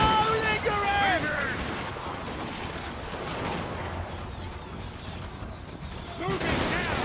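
Volleys of handgunner musket fire in a Warhammer multiplayer battle, crackling bursts over roughly seven seconds with a heavier volley near the end, while voiced battle commands sound over the din.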